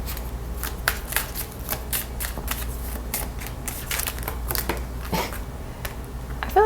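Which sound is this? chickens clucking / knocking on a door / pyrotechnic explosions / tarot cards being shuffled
tarot cards being shuffled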